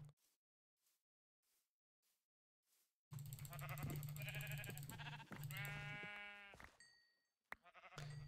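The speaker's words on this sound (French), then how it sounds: "Parfait, du mouton." Sheep bleat in the video game Minecraft: after a few faint ticks in near silence come loud, close, wavering bleats in quick succession, with a sharp click between them near the end.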